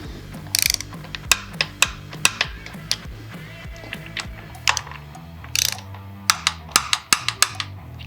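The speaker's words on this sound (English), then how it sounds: "Now we're ready to torque down our breather bolts." A hand ratchet clicks in quick repeated bursts while torquing breather bolts to 12 foot-pounds on a Stealth Air Stinger air cleaner backing plate, loud and close with brief pauses between strokes.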